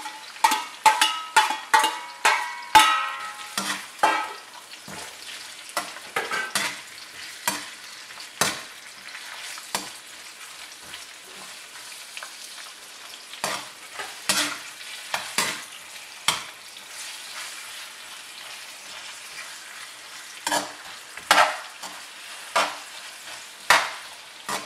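Onion and potato shreds for hot and sour potato shreds are stir-fried in a wok, with rapid clattering spatula strikes at first, then scattered taps and scrapes over a soft steady sizzle.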